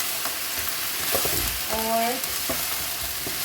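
Mutton sizzles and fries steadily in a pan while being cooked for pulao, a close, continuous crackle broken by a few clinks of a stirring utensil, with a short burst of speech partway through.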